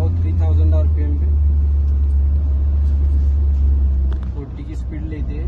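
Hyundai Verna diesel engine pulling in first gear toward about 3000 RPM, a loud, steady low rumble throughout that eases slightly near the end, with speech heard over it.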